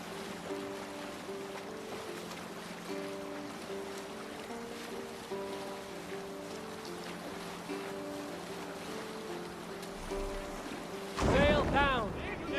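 A longboat sails across open water in Assassin's Creed Valhalla, with steady wind and wave wash under sustained musical tones, and a sudden louder rushing burst near the end.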